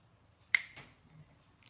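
A foiling pen snaps into the foiling holder of a Brother ScanNCut cutting machine with one crisp, sharp click and a softer second tick just after, in a quiet room.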